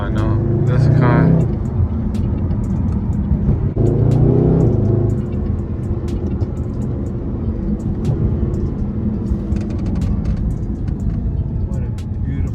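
A Mercedes SLS AMG's engine rumbles and surges in two revving bursts early on, then settles into a steady loud drone, with people talking over it throughout.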